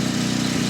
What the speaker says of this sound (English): That's our generator over there.